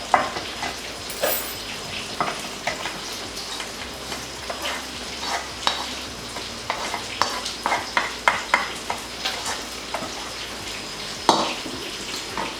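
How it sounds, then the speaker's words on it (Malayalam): Ghee-fried coconut is poured into unniyappam batter for a mango unniyappam, with soft sizzling and quiet stirring scrapes scattered across the mix at a low level and no talking. "ഇനി നമുക്കിത് ഉണ്ണിയപ്പത്തിൻ്റെ കൂട്ടിലേക്ക് ഒഴിച്ചു കൊടുക്കാം"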